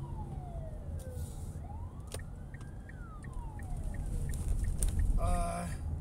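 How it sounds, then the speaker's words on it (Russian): A Russian ambulance siren wails in rising and falling sweeps as it passes on the road, fairly faint under a low rumble, with chicken-like clucks and chirps near the end. "скорая медицинская помощь"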